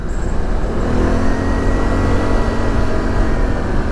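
An ATV engine running loud and steady while riding fast on the Buffalo Mountain and Devil Anse mountain trail, with a continuous close rumble and no talk.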